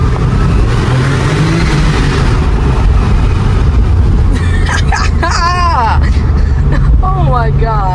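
A 1997 Porsche 993 Turbo S engine pulls hard under acceleration, a loud sustained low roar filling the whole stretch, while excited voices exclaim over it toward the end.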